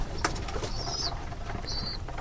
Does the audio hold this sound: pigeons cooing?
yes